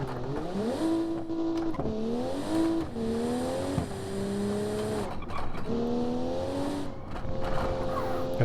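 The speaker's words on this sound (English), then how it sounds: "So let's get some revs up." A 1988 Bay12 Motors car in BeamNG.drive revving repeatedly, the engine note climbing and dropping through several rises and gear changes, with brief tire squeal, loud and close.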